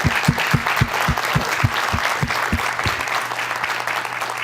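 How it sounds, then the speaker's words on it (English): Applause after a live science talk at NASA Ames, a full room clapping steadily at close range with a few loud individual claps standing out near the front, fading slightly toward the end. "I think we ought to end that with another round of applause for a great talk"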